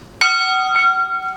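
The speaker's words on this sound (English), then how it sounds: "Listen! The church bell!" A church bell rings out during a high school stage performance, two clear metallic strikes with long sustained ringing overtones that slowly fade.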